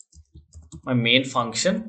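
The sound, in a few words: typing C++ code on a computer keyboard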